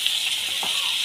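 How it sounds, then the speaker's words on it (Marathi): Mutton pieces, already fully cooked, sizzle steadily as they are sautéed and stirred in a pan for a dry mutton sukka, a soft continuous hiss with a brief scrape of stirring partway through, no talk. "आता याला 2 मिनिट आपण थोडंसं परतून घ्यायचं असेल,"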